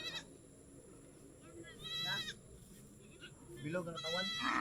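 Goats bleat on a farm, their calls close and wavering and repeated several times, with a person talking over a constant background hum.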